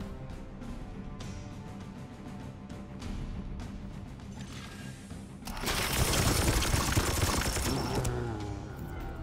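Gunfire in the turn-based strategy game Warhammer 40,000: Chaos Gate – Daemon Hunters: a dense, loud burst of weapon fire erupts after quieter game ambience and menu clicks, then sustains for several seconds before easing.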